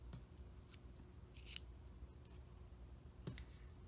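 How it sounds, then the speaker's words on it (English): Scissors snipping crochet yarn at a tutorial table: a few faint, quick clicking cuts spread over a few seconds in a quiet room. "cut the yarn here"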